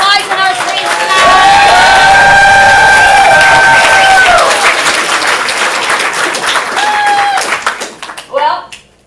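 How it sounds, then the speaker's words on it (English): An audience at an improv comedy showcase bursts into loud applause and cheering, sustained clapping with whoops and shouts, easing off after several seconds and then flaring again briefly near the end. "Round of applause for Carissa making our slides and our screens tonight."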